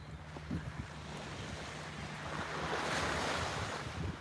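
Ocean waves wash steadily onto a beach at Lovers Key State Park, a continuous broad surf roar swelling slightly with wind buffeting the microphone.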